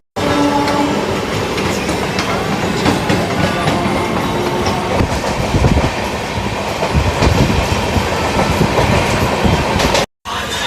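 The Uttarbanga Express train with LHB coaches rumbles along the rails with rhythmic clickety-clack of wheels, loud and close throughout, with a brief cut near the end.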